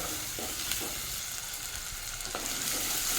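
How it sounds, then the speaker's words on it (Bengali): Prawns fry in a pan with onion and garlic, giving a continuous close sizzle. Light stirring scrapes sound now and then, with no voices. "এর সঙ্গেই চিংড়ি মাছটা ভাজা হয়ে যাবে"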